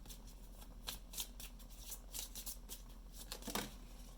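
A playing card drawn from a deck during a tarot-style reading, with soft papery flicks, slides and riffles scattered across a few seconds, close and quiet.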